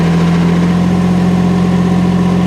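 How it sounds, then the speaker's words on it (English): A UME12 mini excavator's engine runs steadily while driving an auger attachment, a constant loud mid-low drone with a strong hum and no pauses. "If I press down on this pedal, it starts the auger drive, so now it's spinning in a clockwise direction."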